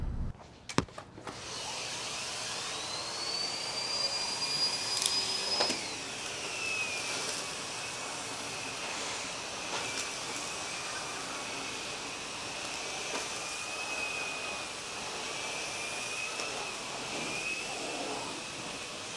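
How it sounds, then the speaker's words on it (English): A SEBO Airbelt E2 canister vacuum cleaner runs with a steady, fairly quiet whirring hum, a few knocks and brief tonal whines near the start, continuous throughout. "it's one of the quietest vacuums on the market"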